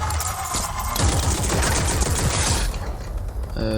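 Automatic turret fire in the online shooter The Cycle, a dense rapid burst of gunshots running loud for several seconds amid game effects, then tapering off with mechanical clicks.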